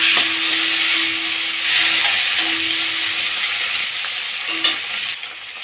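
Bay leaf and tomato frying in a pan for a fish curry, a loud, continuous sizzle close by, broken by a few scraping stirs, with no voices.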